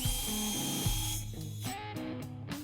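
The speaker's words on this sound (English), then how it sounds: "let's make a pilot hole for our screw." A power drill bores a pilot hole for a screw in wood while building a folding-seat picnic table, giving a short burst of whirring that stops and restarts several times, close up.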